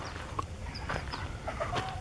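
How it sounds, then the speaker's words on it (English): Soft clucking and short calls from chickens nearby, scattered over a low background hum, with no talking. "chickens and roosters and some rabbits"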